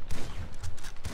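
Shotgun blasts in GTA 5, two or three sharp, heavy booms in quick succession over a brief, noisy burst of game action.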